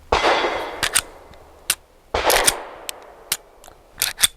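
Handgun rounds fired at a shooting range from a compact pistol such as a Kor AHSS, Ermox, Girsan or Tisas, about five loud, sharp reports with ringing tails, spaced unevenly, plus a few fainter shots and clinks.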